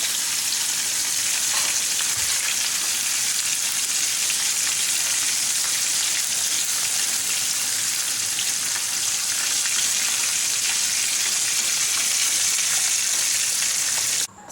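Fish pieces coated in leftover masala sizzle loudly and continuously in a pan for an Indian-style Sheela fish fry, a dense, even frying hiss that runs the whole time with no voices.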